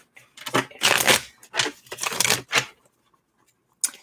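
A tarot card deck is shuffled in several quick, close bursts of papery riffling and slapping, separated by short silences, followed by one brief final flick.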